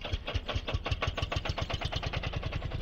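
A tractor engine from a modded farming simulator game idles and chugs in a fast, even rhythm of mechanical pulses, steady and fairly quiet, with nothing else over it.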